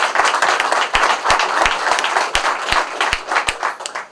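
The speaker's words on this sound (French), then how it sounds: "Donc on peut encore les applaudir." Audience applause at a supranational event in Bagnols-sur-Cèze, France, a dense stretch of many hands clapping with sharp individual claps standing out, steady and fairly loud throughout.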